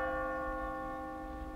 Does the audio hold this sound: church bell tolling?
yes